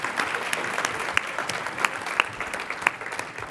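An audience at a healthy-schools award ceremony applauds honorees, a dense, steady burst of many hands clapping at close range with no voices over it.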